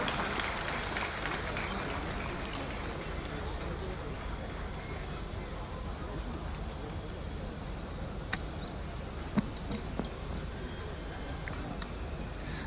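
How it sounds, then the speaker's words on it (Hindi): Crowd at an outdoor Independence Day flag-hoisting ceremony on a parade ground applauding in a steady, faint wash of distant clapping with a murmur of the gathering beneath it. "जोरदार तालियां"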